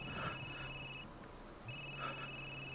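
A cell phone rings in Resident Evil Village, two electronic trilling bursts separated by a short pause, faint and clean with no talking.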